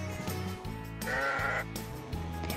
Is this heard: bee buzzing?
no